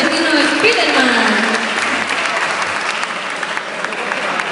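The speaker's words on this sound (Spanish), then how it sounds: "un aplauso por favor y adelante para que se vean los populares." Crowd at a cosplay catwalk show in Gijón claps for a Spiderman cosplayer, a continuous loud rattle of hands with a voice briefly audible over it near the start.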